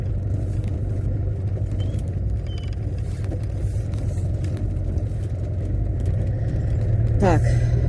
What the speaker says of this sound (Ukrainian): все, я буду їхати і відключусь, бо тут дорога катастрофічна.